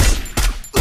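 Bursts of gunfire in the Garena Free Fire video game, three loud rapid shots close together in under a second.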